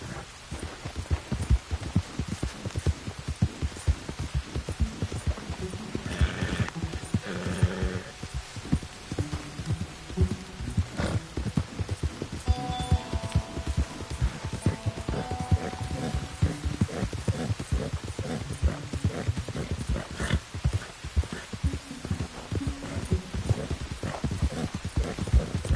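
A horse gallops under its rider in the Western video game Red Dead Redemption, hooves pounding in a fast, steady clip-clop rhythm that stays close and loud throughout, over a dull background wash.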